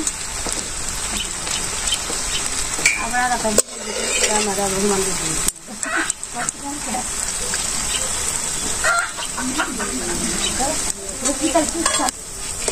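Pieces of chhana (milk curd) frying in mustard oil in a pan give a steady, dense sizzle and crackle like rain, with faint voices and clatter now and then.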